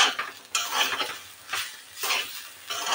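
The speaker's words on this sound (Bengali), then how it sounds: "দিয়ে এটাকে ফের আরও ভালোভাবে নেড়ে নেব।" Grated coconut frying with cardamom and a pinch of salt in a pan, stirred in soft, rhythmic scraping sweeps about every half second, quiet and close with a faint sizzle beneath.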